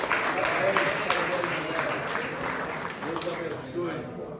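A church congregation applauding during a Sunday service, a sustained wash of clapping from many hands in a large room, with a voice speaking over it.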